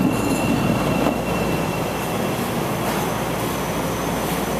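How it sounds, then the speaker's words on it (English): A Chicago Yellow Line train pulling into a station, a loud, steady rumble of rolling railcars with a thin squeal of wheels on rail running throughout. "Here's a yellow line train."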